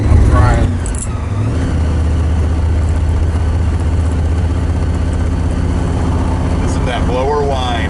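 Mad Max Pursuit Special Interceptor XB Falcon with a supercharger blower, a loud, close engine rumble with a rising whine on top, heard during a ride with people talking over it.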